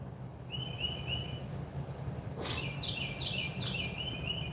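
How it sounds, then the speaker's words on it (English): Birds chirp and whistle outdoors in short, bright phrases against a steady low background hum. A brief burst of rapid, sweeping calls sits near the middle, and no one speaks. "when you hear birds like that singing, it makes you feel tropical"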